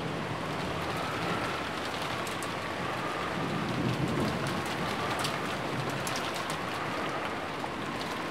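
Rain in the Umineko no Naku Koro ni game soundscape falls as a steady, even hiss with scattered droplet ticks, moderate in level and unbroken by speech.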